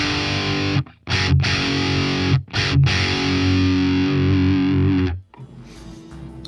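Crunchy distorted electric guitar power chords through a BOSS Katana MK2 amp, with bass EQ only, with loud sustained thumping chords cut by brief palm-muted stops and no talking.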